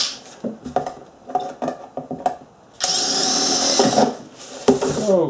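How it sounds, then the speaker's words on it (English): A power drill fitted with a hole saw cuts into a gutter downspout, with short bursts of rattling and clatter first, then a sustained loud whirring grind through the second half. "with the hole saw on there, it'll wander around because you really can't see the end of the drill"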